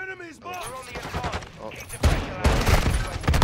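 Desert Eagle pistol fire in Call of Duty Modern Warfare 2, a loud burst of rapid, close shots and impacts crowding the second half, while a voice talks over the opening moments.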